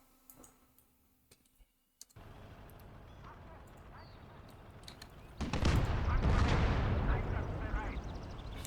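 Artillery cannons fire in the World War II video game Gates of Hell Ostfront. Sharp blasts mix with a dense clatter of gunfire and mouse and keyboard clicks, and the shooting swells to a loud, continuous barrage in the second half.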